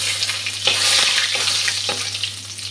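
A bay leaf crackles in hot oil in a pan, giving a bright, close sizzle with a few sharp pops and stirring scrapes over a low steady hum.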